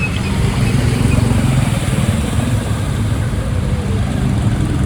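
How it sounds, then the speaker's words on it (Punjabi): A motorcycle engine running steadily in the rain, a loud, close low rumble that holds without revving, with rain noise layered over it. "ਬੰਦ ਨਹੀਂ ਹੋਈ ਮੇਰੀ ਮੋਟਰਸਾਈਕਲ"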